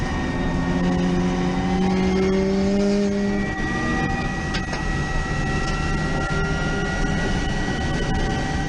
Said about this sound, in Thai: ไฮโดรเจนนั้นเสียงเครื่องมันจะเงียบเหมือนรถไฟฟ้าหรือเปล่าเราไปฟังเสียงหวานๆของเครื่องยนต์ตัวนี้พร้อมๆกันครับ